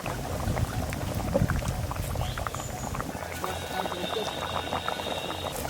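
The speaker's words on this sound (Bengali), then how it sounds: "এবার জল দিয়ে দেবো" Shrimp and taro curry simmering in a pot after water has been added, giving a faint, continuous bubbling with a soft liquid churn.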